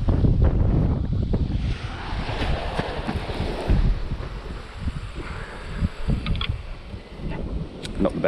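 Strong wind buffeting the microphone on a North Sea shore while sea fishing, with waves and surf rumbling underneath, a loud continuous gusty roar that eases slightly in the middle.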